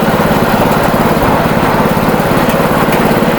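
A belt-driven farm machine engine runs steadily and loudly, a constant close-up mechanical drone with even pulsing and no pauses, and no speech over it.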